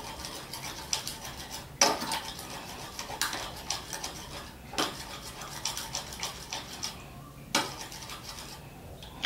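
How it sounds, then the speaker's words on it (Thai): A spoon stirs fish sauce into soybean paste sauce in a bowl, giving soft scraping and rubbing strokes with several sharper clinks against the bowl, close and irregular, with no talk. "ผสมทุกอย่างให้เข้ากันนะฮะ"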